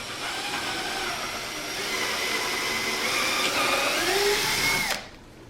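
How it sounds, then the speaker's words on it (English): A power drill runs continuously, boring a pilot hole and driving screws into wooden boards for an outdoor welcome sign with planter box; a steady, loud whine with slight pitch shifts that cuts off abruptly near the end. "What we'll probably do is do one pilot hole and show Jeremy screwing it together"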